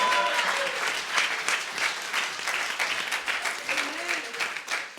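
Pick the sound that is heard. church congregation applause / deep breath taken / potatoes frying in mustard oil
church congregation applause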